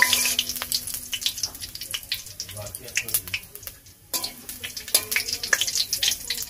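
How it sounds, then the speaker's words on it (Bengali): Whole cumin seeds and dried red chilies fry in hot oil, giving a continuous close sizzle with the scrapes and clatter of stirring. "এবারে শুকনো লঙ্কা আর গোটা জিরে একটু ভালো করে আমি ভেজে নেব।"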